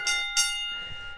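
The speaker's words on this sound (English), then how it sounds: "We ring the bell." Handbell rung twice in a room during a lively music-themed gathering, two bright clanging strikes close together with the second ring lingering and fading into quiet room noise.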